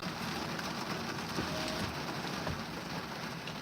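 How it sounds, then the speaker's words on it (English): Steady rain falls throughout, a dense, even hiss of drops hitting surfaces with no voices over it. "it's raining"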